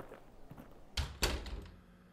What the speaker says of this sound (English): closing the door behind him